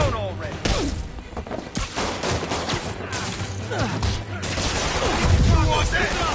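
Gunfire aimed at Spider-Man, a burst of rapid shots and thuds under shouted voices and action-scene commotion, fairly loud throughout.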